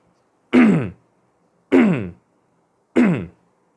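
Three separate throat clearings, evenly spaced about a second apart, each a short harsh rasp standing alone against silence.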